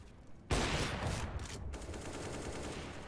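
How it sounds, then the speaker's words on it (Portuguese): Rapid bursts of video game gunfire in Counter-Strike: Global Offensive erupt suddenly and continue as a dense, loud fusillade with sustained rattling shots. "Pô, o KN tá trocando um tiro legal, hein?"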